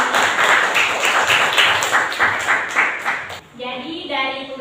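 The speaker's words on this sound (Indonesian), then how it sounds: "Beri tepuk tangan untuk teman-teman." Classroom of students applauding their classmates, a dense run of clapping for about three and a half seconds before it fades into a voice speaking.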